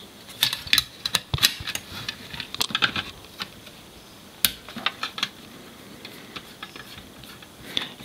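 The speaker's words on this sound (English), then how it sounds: "so you have to peel that off and then remove these two screws" Two screws being backed out of a USB port housing during a NIStune Type 1 board installation, giving a run of sharp close clicks and small metallic ticks in an irregular rhythm, with brief pauses between bursts.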